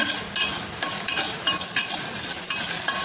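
Coriander seeds sizzle and crackle as they fry in a pan while being stirred, a steady moderate hiss with small pops, no voices.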